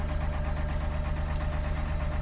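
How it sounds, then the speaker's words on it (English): A steady, low tractor engine hum drones on continuously with a regular throbbing pulse, close and loud, with no talking. "the humming of the tractor."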